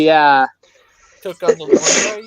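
A single sharp sneeze bursts out during a casual talk-radio chat, following a brief spoken phrase and a short pause, close and loud against the conversation.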